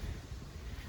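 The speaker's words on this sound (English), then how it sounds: "It's windy." Steady wind buffets the microphone, a low, continuous rushing roar with no voices.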